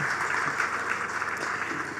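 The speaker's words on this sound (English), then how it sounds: "One more time, ladies, a round of applause." A crowd at the launch of a national family programme claps steadily, a dense patter of applause, moderately distant and fairly quiet, with no pauses.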